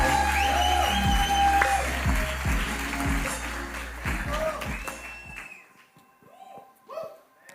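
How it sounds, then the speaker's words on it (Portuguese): Applause and a few cheers from a church congregation welcoming a guest speaker, loud at first, then fading and cutting off midway, leaving faint scattered sounds and brief voices. "recebam com uma salva de palmas"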